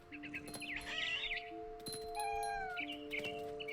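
A mama bird in the game What Remains of Edith Finch chirps in quick bursts of bright tweets, fairly close, over a soft, steady tonal game ambience.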